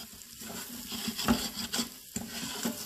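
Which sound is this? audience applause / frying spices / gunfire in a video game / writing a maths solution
frying spices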